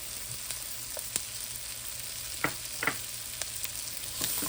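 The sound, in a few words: garlic frying in pan for sweet and sour chicken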